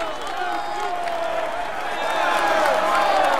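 A ceremony crowd at the Tour de France applauds and cheers a cyclist in the white jersey, a steady wash of clapping and voices with a commentator talking over it throughout.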